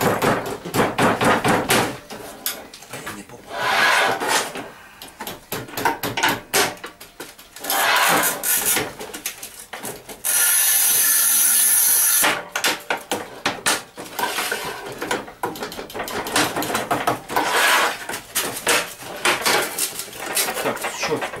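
Sigma tile cutter scoring and snapping tile, heard as a run of clattering scrapes and sharp cracks, with one bright steady scoring hiss in the middle and a few distant voices.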